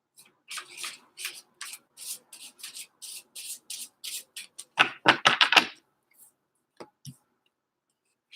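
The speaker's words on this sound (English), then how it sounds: "I'm shuffling" Cards are riffled and snapped in a quick series of crisp bursts, then a denser flurry of shuffling, trailing into a few soft taps, during a tarot card reading.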